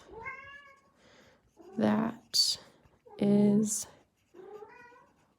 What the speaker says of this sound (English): Please excuse my cat meowing in the background.